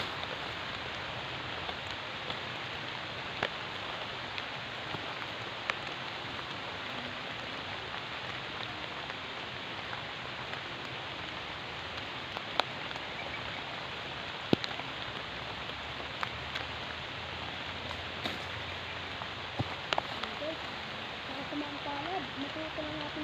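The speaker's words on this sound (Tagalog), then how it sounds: "Ang lakas po kasi ng ulan eh." Heavy rain pours steadily, a dense continuous hiss with occasional sharper drops, no voices.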